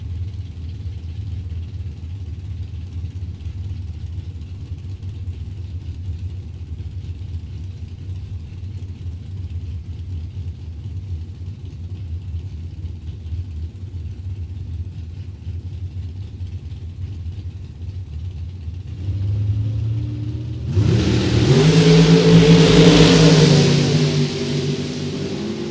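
Dragster engine at a drag race idling as a steady, low rumble for a long stretch, then rising into a loud, rough rev burst toward the end.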